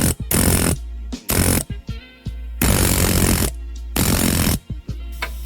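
Loud, close mechanical hammering on a 12mm socket wrench in several rapid bursts separated by short pauses, like a power tool rattling against metal, during a glow plug replacement on a 2007 LBZ Duramax.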